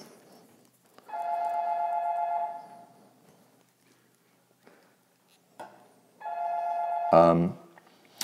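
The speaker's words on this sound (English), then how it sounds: "My phone is ringing" A telephone rings twice, each ring a long, steady electronic tone about a second and a half, with a quiet pause between and a brief loud burst after the second ring.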